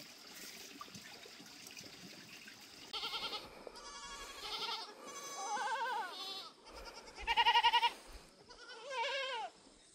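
Goats bleat in several loud, wavering calls one after another, close by, over a quiet outdoor background with a faint trickle of water, and no talking.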